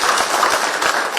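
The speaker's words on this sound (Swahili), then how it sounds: "Tumuhurire makofi." A crowd applauds at an outdoor political gathering for a Kiambu governor nomination, producing a brief, dense, loud burst of clapping.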